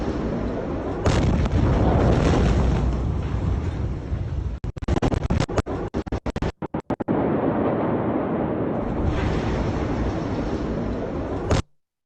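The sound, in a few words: large explosion on docks with shockwave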